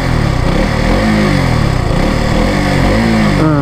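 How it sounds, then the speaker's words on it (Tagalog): A 2022 KTM RC200 motorcycle with an underbelly exhaust revs close up, its loud single-cylinder engine note rising and falling steadily through the whole stretch. "try natin pakinggan ulit yung sound ni RC200. Naka underbelly exhaust tayo dito."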